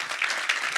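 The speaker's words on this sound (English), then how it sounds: "Just give them a clap." A short, steady burst of audience clapping at a talk on Black economic empowerment, full and close, heard alone.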